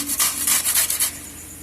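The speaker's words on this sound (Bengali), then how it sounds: "এই গেটারের সাহায্যে কচুগুলোকে আমি ঘষে এরকম" Raw taro scraped across a hand grater in a kitchen gives five or six quick rasping strokes in a steady rhythm, close and fairly loud, then fades to quiet.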